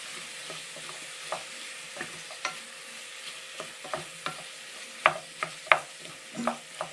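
Carrots are stir-fried in a pan for sweet and sour pork, with irregular spatula taps and scrapes over a faint sizzle, the clacks growing sharper and louder toward the end; close and alone, no talk.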